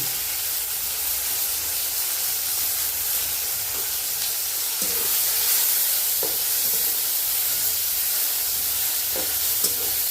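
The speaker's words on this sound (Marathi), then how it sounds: "तर त्याच तेलामध्ये टमाटे टाकून होते टमाटे लाल होते" Tomatoes fry in hot oil, giving a steady close hiss and sizzle, with a few soft stirring scrapes now and then.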